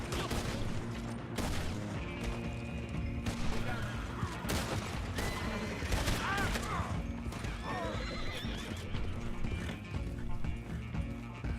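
Horses whinny and neigh over a steady clatter of galloping hooves, with bursts of gunfire and game music in a busy action scene in Red Dead Redemption 2.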